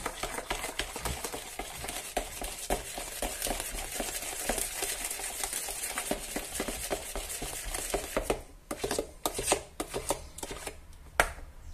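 Sponge cake batter being mixed in a bowl after vanilla essence goes in, a steady run of close scraping and tapping strokes that eases into a few sparser knocks near the end.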